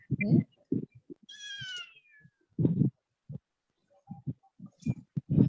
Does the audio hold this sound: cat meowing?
yes